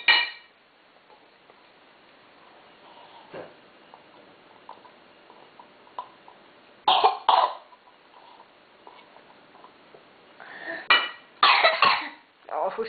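A toddler of nearly two coughs during a meal in a few short, separate bursts, close and fairly loud, with faint clinks of dishes in the quiet between.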